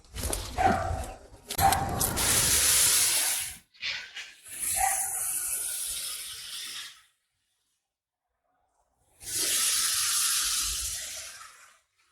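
Water hisses and splashes into a garden wheelbarrow in several loud bursts, with short pauses between pours and a long silent gap before a final stream.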